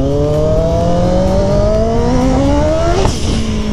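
A turbocharged Yamaha XJ6 motorcycle accelerates hard at full throttle, its loud engine whine climbing steadily in pitch through the gears, close to the rider with no talk.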